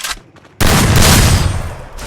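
Burst of gunfire from a Lone Wolf 1v1 shooter video game, a brief quiet pop followed by a loud sustained volley of rapid shots lasting over a second, with no talk.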